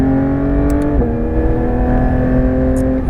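A Porsche 911 GT3 RS on the Nogaro race circuit pulls hard with a loud, steady engine roar whose pitch climbs gradually as it accelerates, heard close and alone.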